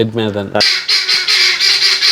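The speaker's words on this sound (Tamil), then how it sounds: "பக்கத்து வீட்டு கினிக்கோழியா கினிக்கோழி" A guinea fowl calls loudly and close by, a harsh repeated rhythmic cackle running throughout after a brief honking note at the start.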